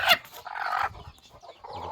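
A newly hatched chicken chick peeps in a few short, bright chirps close by, with a sharp call at the start and softer calls spread through the rest.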